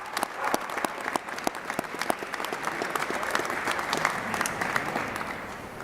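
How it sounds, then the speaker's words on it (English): An audience at a Georgia state budget signing gives a steady round of applause for budget office staff, dense rapid clapping from a room full of people with no talk over it. "let's give them a round of applause and thank them for their hard work"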